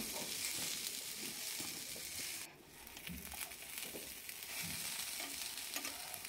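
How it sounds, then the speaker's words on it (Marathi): Okra sautéing uncovered in a pan for garlic bhindi sizzles softly and continuously, with occasional spatula stirs and scrapes, fairly faint overall. "भेंडीला छान परतून घ्यावं लागतं।"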